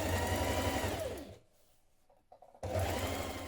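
A sewing machine stitches the hem of a child's skirt with a loud, close whir, stops for about a second, then resumes.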